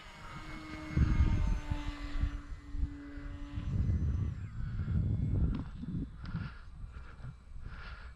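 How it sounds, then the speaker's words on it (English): An RC Carbon Cub four-channel model plane flies overhead, its small electric motor giving a thin whine that rises and fades over several seconds, heard from moderate distance against outdoor background noise, with no talking. "Absolutely love flying this plane."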